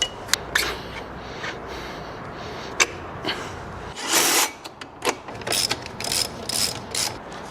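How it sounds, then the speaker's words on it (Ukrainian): A torque wrench tightens a shock absorber bolt on a KOVI 300 Lite F motorcycle, giving sharp close ratchet clicks at irregular intervals and bursts of rapid ratcheting near the end, no talk. "Болт амортизатора затягом 45 ньютон, невеличке зусилля."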